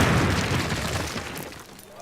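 A Call of Duty explosion, a deep booming burst that starts loud and decays over about two seconds, with no voices.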